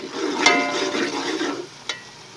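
Onions and garam masala (black cardamom, cumin and whole coriander) fry in a pot for haleem, a moderate close sizzle with a couple of sharp spoon clinks as they are stirred, fading after a second and a half.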